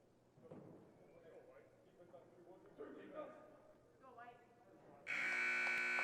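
Basketball game buzzer in a varsity boys' high school gym, blaring loud and sustained for the final second after crowd noise and commentary, calling a timeout.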